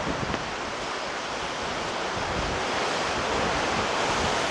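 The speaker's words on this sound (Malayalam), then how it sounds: "നല്ല കാറ്റുണ്ടല്ലോ" Strong wind on a hilltop at Kanyakumari, a constant hard roar buffeting close to the microphone with no pause or letup, no speech heard.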